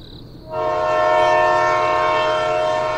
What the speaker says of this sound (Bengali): অনেকটা সময়ের ব্যবধানে সেই প্ল্যাটফর্মে ট্রেন আসে